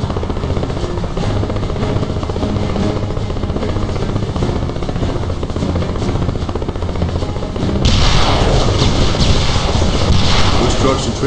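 A helicopter flies in The Expendables 2 video game on PC, its loud, constant rotor and engine roar filling the scene and growing brighter and more intense toward the end.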